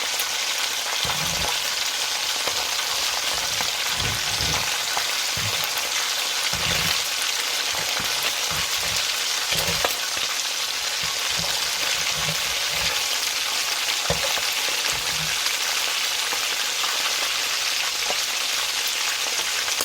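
Jamaican-style escovitch fish, just flipped, fries in a pan with a loud, continuous sizzle and popping oil, broken by occasional soft knocks.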